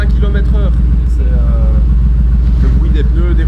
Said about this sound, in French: le bruit des pneus, des rouleaux, l'échappement, le moteur.